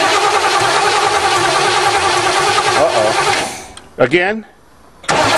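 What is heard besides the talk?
old Chevrolet engine cranking with starter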